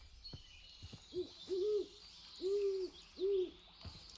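Four hollow owl-like hoots in a Minecraft game, evenly paced with short gaps, over faint ambient hiss and a few soft clicks.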